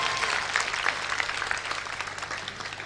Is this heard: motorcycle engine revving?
no